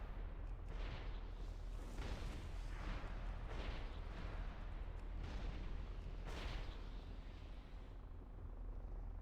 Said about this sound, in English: Let's hop into the cannon.